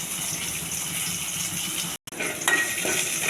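Onions frying in a pan for chicken curry give a steady close sizzle that cuts out for a moment, then returns with light utensil clinks.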